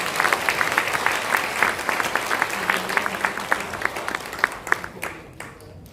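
A church congregation applauds during a Presbyterian elder ordination and retirement service, a dense, lively round of clapping from many people that carries on steadily, then fades near the end.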